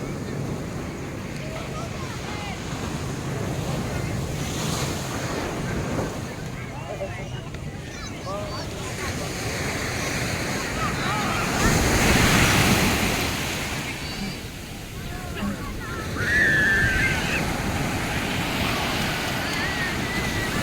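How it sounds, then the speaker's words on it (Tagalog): Ocean surf rolls in and crashes on a beach at Tiwitiwi Beach, Legazpi, Albay, Philippines, with wind buffeting the microphone and voices talking now and then over the roar of the strong waves. "Grabe yung alon talaga."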